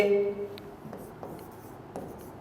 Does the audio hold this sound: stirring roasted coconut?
no